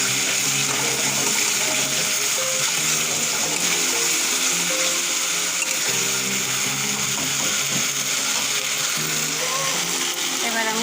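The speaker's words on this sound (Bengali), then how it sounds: "এবার আমি জল দেবো।" Water pours into a pan of spice paste frying for lentil kofta curry, a steady broadband rush and sizzle running loud throughout with faint talk mixed in.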